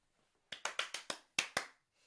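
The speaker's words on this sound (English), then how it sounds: "It was the clap." Seven sharp hand claps ring out close by in quick succession, a tight run of five, a brief pause, then two more, each crisp and decaying fast in an otherwise quiet room.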